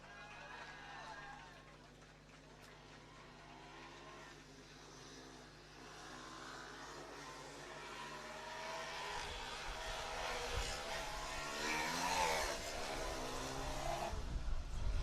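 A Formula Student race car, number 88 from the University of Bologna, on its autocross run at FSS 2024: the engine note builds and grows louder through the second half while an announcer talks throughout.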